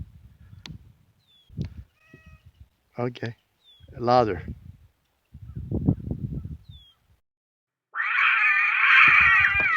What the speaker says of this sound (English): Make a meow for a sound effect.